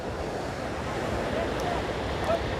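Ocean waves wash onto RK Beach in Vizag, a steady broad rush of surf mixed with wind noise, continuous and moderately loud without distinct breaks.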